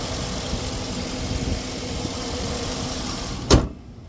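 A 2014 Dodge Charger Pursuit with a 5.7 Hemi V8 idles steadily at moderate volume, a low even rumble, then a brief louder thump before the engine noise drops away.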